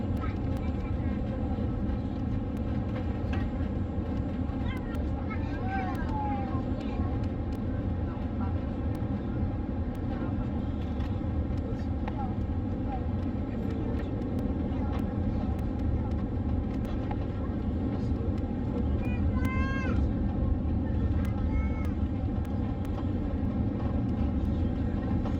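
Inside a China Airlines airliner cabin coming in to land at Taipei in bad weather, a steady loud roar of engines and rushing air fills everything, with faint chimes and a voice now and then over the drone.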